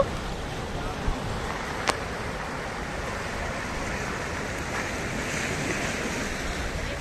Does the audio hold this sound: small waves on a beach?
yes